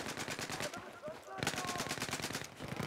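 Rapid bursts of automatic gunfire from Battlefield 4 rattle in a steady, rhythmic stream, with a short lull midway before the shooting resumes just as loudly, while voices chatter faintly underneath.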